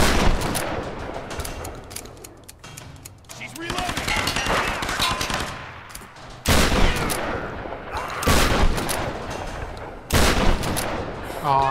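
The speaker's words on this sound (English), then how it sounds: "so I'm gonna go shotgun crazy here" Shotgun blasts boom repeatedly in Tomb Raider 2013 amid a heavy firefight, loud close shots spaced a couple of seconds apart over continuous rattling gunfire and explosions, with a voice briefly talking over the action.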